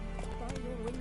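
Hoofbeats of Roach, Geralt's horse in the video game The Witcher 3: Wild Hunt, clopping at speed with a brief whinny, steady and close under a voice that speaks over the game.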